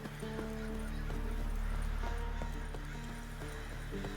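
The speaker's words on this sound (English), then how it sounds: "Can I use this horse?" In The Witcher 3 video game, horse hooves clip-clop in a steady rhythmic walk, with a whinny over a low ambient outdoor bed of game sound.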